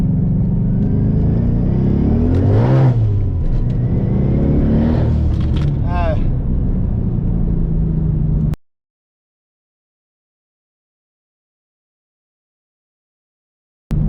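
A 1000 hp Ford Mustang GT's engine revs and climbs steadily in pitch as it accelerates hard from 20 to 65 mph, loud and close, then cuts off into silence.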